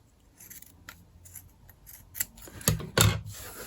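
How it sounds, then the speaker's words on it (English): Paper scissors snip several times, the sharp crisp cuts growing louder toward the end after quieter rustling, close and alone with no talk. "These are my paper scissors."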